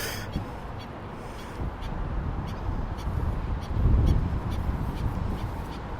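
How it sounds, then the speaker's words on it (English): A bird calls angrily beside the Burbank Western Channel, its harsh, crow-like caws repeating at intervals over a steady outdoor rumble, with no talking. "that one bird over there is real angry at Barney"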